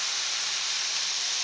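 Leafy greens dropped into a hot pan with dal, giving a steady, even hiss of steam and frying that holds at moderate loudness with no distinct clatter or voices.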